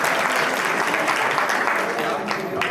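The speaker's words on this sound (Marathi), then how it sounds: "एकदा स्त्री शक्तीची टाळी या शिरवलीच्या मंदिरामध्ये या ठिकाणी वाजली पाहिजे" Women clap together at a temple ceremony in Shirvali during a village council and library inauguration, a dense, sustained round of applause from a crowd, loud and steady throughout.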